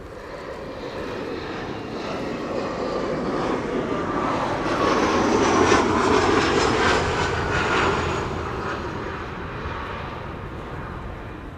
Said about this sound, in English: Embraer 175 KLM, flight 1174, arriving from Stavanger. And a Transavia 737 behind it, arriving from Palma de Mallorca